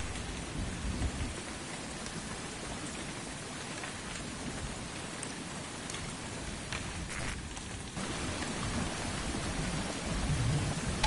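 Steady heavy rain and rolling thunder in the République video game fill the scene throughout, a dense constant downpour with a brief dip near the eighth second, no voices.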